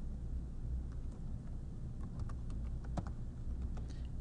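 Faint, quick keyboard typing as formulas are entered into a spreadsheet column, with scattered light key clicks over a steady background hum.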